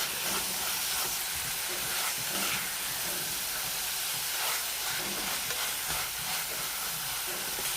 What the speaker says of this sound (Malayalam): ഉള്ളി വാടാൻ വേണ്ടിയിട്ട് ഒരു കാൽ ടീസ്പൂൺ ഉപ്പ് കൊടുക്കുന്നു ഇതെല്ലാം നല്ലോണം വഴറ്റി എടുക്കാം